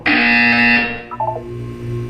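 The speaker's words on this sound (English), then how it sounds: "When you hear the buzzer, look down at the floor." A loud, harsh electronic buzzer from the video game Portal 2 blares close up for under a second and then cuts off, leaving a low hum and a few soft chiming tones.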